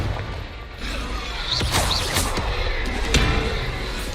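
Confringo blasting spell striking a target in Hogwarts Legacy, loud crashing impacts with sharp whooshing transients over a dense, rumbling game soundscape.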